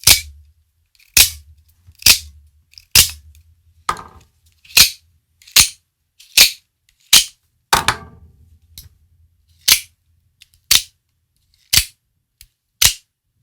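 A Benchmade Infidel Unlimited Limited Edition 3300B out-the-front knife fires its blade open again and again, giving about fifteen sharp, loud, close snaps at roughly one-second intervals with short mechanical rattles in between.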